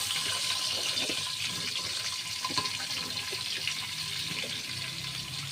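Potatoes frying in oil left over from cooking fish give a steady, dense sizzle that holds close and fairly loud for the whole stretch, with no talking.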